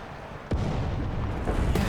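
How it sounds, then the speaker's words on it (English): A sharp booming shot from War Thunder with a Panther D tank in play, followed by a second fainter blast, heavy rumbling battle noise running between them. "there's some shots coming down the road"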